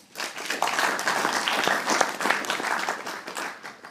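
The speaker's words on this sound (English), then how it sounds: "give him a massive round of applause" Sustained applause from a large crowd at a Rotary club youth speaking event, dense steady clapping filling the whole stretch, with no speech over it.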